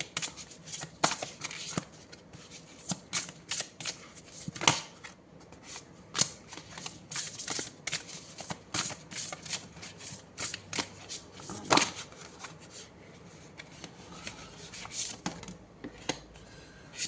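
Tarot cards are shuffled by hand, a long run of crisp papery riffles and slaps in an irregular rhythm, close and fairly loud, with no talking.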